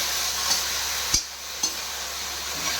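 Spices fry in a pan with a constant close sizzle, broken by a few light clinks and scrapes of a spoon stirring.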